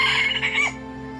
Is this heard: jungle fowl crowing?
yes